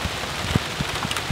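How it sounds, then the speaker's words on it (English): Rain falls steadily outdoors on a fly fishing trip, a dense hiss with scattered close drops pattering on nearby surfaces, no voices. "it just started raining"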